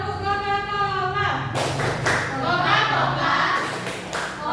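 A class of students claps out a rhythmic 'Tepuk Coca-Cola' chant in a classroom, with sharp unison claps following a teacher's spoken count-in, voices chanting between the claps.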